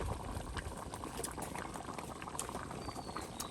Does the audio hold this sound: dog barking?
no